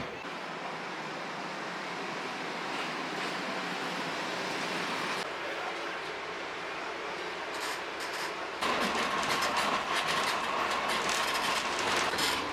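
From on board, a tram rolls along its rails with a continuous rumble and rattle that grows louder and harsher partway through, with no talking.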